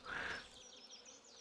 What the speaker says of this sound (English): You will hear like a fly or bees or wasps or whatever